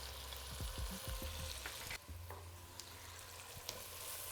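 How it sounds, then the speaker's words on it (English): Onions frying and softening in a pan give a quiet, steady sizzle, broken by a few soft knocks and scrapes of stirring early on and occasional small pops. "So we're going to cook the onions in here now, soften them down"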